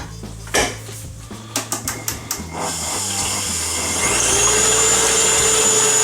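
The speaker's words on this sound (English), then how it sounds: "we're going to start doing the egg whites in the whisk until soft peaks form" An electric mixer whisks egg whites for nougat toward soft peaks, a steady motor whir rising slightly louder after a few clinks of dishes and utensils at the start.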